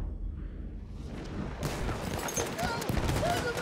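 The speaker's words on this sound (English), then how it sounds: "the consistency of the shotgun blast seems a little bit more accurate" Trench shotgun blasts in Battlefield 1 boom out amid chaotic battlefield gunfire and explosions, loud and dense after a quieter start, with a player talking underneath.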